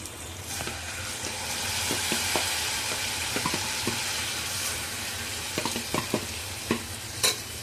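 Onion and chopped ginger fry for dal in hot oil, a steady loud sizzle filling the whole stretch, with intermittent scrapes and clinks of a spoon stirring against the pan.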